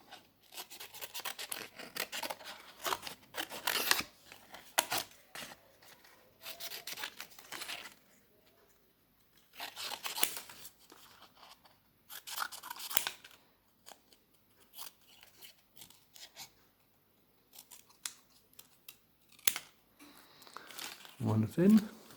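Scissors snip through paper, cutting out fin pieces for a fish sculpture: soft, close, crisp cuts and crinkles coming in short bursts with pauses between them, quiet throughout.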